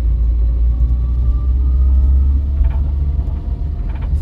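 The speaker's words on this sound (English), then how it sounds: "you're talking about the whining noise? Yeah. That's the gearbox." A 47-year-old Vauxhall Viva on the move, its worn gearbox whining faintly over a steady low engine and road rumble that runs unbroken throughout.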